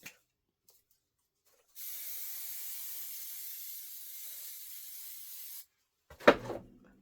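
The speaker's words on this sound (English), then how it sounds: "that was some serious spray" An aerosol can sprays a pre-cut fabric piece for machine embroidery in a single steady hiss of about four seconds, close and moderately loud, followed by a brief rustle or knock as it is set down.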